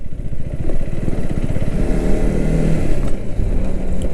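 A motorcycle engine drones loudly and steadily up close, with a low throbbing rumble and slight revving as the bike rides along a dirt road.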